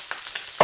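Sweetbreads frying in a pan, crackling bursts of sizzle and spitting oil in a few short pops, the last one loudest, close up and without talk.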